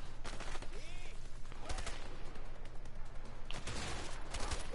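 Enemy gunfire crackles in A Way Out, a dense fusillade of rapid shots running steadily under continuous game noise, with bursts swelling louder in spots.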